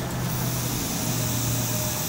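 An airbrush sprays out cleaning water with a steady hiss and a low constant hum underneath, continuous and fairly close for the whole stretch.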